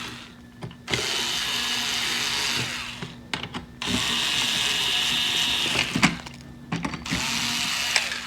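A power driver with a 3mm hex bit whirs in bursts while removing a cover from a recessed dome security camera mount: three sustained runs separated by pauses with small clicks and handling noise.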